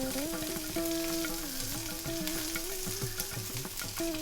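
Boiled salted peanuts with asafoetida powder being sautéed for sundal, a steady close frying hiss with intermittent stirring clinks and scrapes, while music plays throughout in the background.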